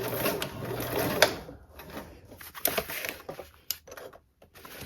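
A Belmont Luxe sewing machine runs in short bursts while stitching an L-shaped seam to a marked point, with near, rapid mechanical whirring that starts and stops several times and no talk over it.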